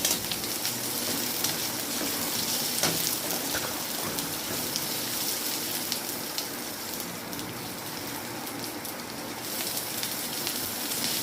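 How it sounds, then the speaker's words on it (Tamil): Onion and square-cut capsicum sautéing in a pan for chilli idli, a steady close sizzle and crackle running throughout with a few faint clinks, no talk. "இப்போ வெங்காயத்தை சேர்த்துக்கலாம். ரொம்ப வதக்கக்கூடாது, சும்மா லேசாக வதக்கினா போதும்."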